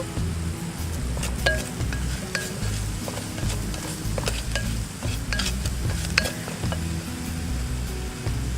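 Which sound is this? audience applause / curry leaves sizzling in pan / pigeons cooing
curry leaves sizzling in pan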